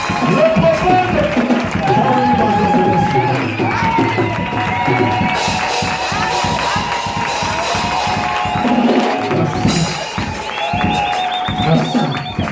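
A church congregation at a gospel conference applauds and cheers, a continuous roar of clapping and shouts under loud, busy background sound with voices throughout.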